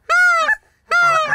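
Geese on a goose hunt give two loud, close honks, each lasting about half a second and separated by a short pause.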